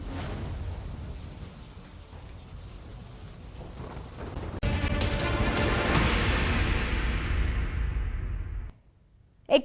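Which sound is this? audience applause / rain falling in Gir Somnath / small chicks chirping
rain falling in Gir Somnath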